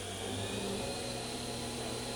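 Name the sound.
Fadal vertical machining center spindle spinning up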